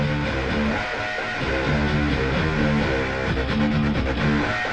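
Layered guitar-driven instrumental music from a Need for Speed racing game soundtrack, playing steadily and loudly with dense rhythmic chords throughout.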